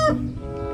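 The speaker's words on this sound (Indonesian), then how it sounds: "Ayam berkokok." A rooster crows once, a short, loud, harmonic call that falls away quickly against low background noise.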